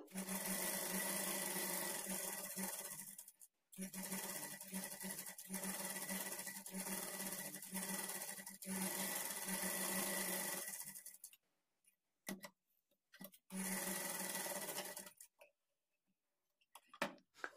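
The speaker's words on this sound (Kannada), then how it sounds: "ಈ ನೆಕ್ ಪಾರ್ಟ್ ಏನಿದೆ ಅದರ ಸುತ್ತಲೂ ನಾವು ಸ್ಟಿಚ್ ಮಾಡ್ಕೊಳ್ಬೇಕು" A sewing machine stitches around the neck of a blouse, running steadily for about eleven seconds with one brief stop. Short stop-start bursts follow, then one more longer run.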